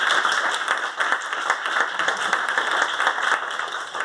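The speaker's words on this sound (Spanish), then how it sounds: "Un aplauso a ellos también." Audience at a science communication talk applauding, a dense steady clapping that fills the room for about four seconds at even loudness, with no voices over it.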